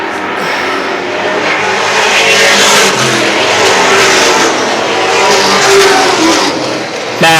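Late model race cars at Star Speedway roaring past in a feature event, loud engines revving and rising as cars sweep by, a continuous dense racing roar.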